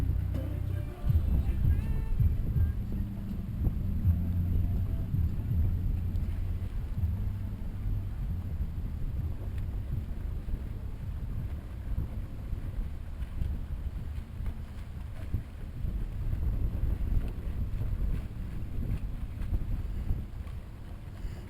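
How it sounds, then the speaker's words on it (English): Wind buffeting a sailboat on the St. Johns River at Palatka on a breezy day: a steady low rush and gusty rumble throughout, with faint water and boat sounds underneath. "And it's pretty windy."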